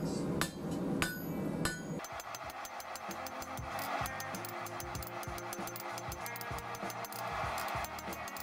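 A hammer forges metal bar down to a taper for a hand-forged fire basket, striking in rapid, evenly spaced ringing blows up close after a brief burst of other workshop noise.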